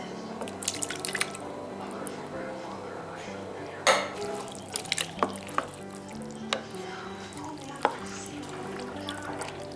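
Beef bone broth pouring from a carton into a soup pot, liquid glugging and splashing with sharp drips and clinks, moderately close.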